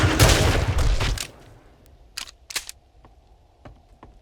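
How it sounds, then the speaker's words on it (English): A loud, dense burst of shotgun fire in 7 Days to Die fills the first second, followed by a couple of sharp shots and fainter clicks, with no talk. "You know what? Shotgun."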